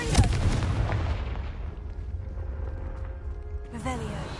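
A Confringo blasting spell going off in Hogwarts Legacy: a loud explosive burst at the start, its booming rumble fading over a couple of seconds, then a brighter magical shimmer near the end.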